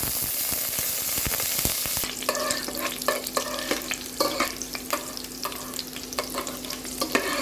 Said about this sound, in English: Now, once the oil hot, let's fry our pine seeds.